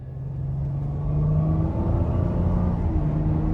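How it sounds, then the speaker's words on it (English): A 2019 Dodge Grand Caravan SXT with the 3.6-liter V6 drives on the road, heard from inside the cabin as a low steady engine rumble and road noise that swells slightly partway through. "we're gonna go ahead and take this 2019 Dodge Grand Caravan SXT out on the road for a test drive"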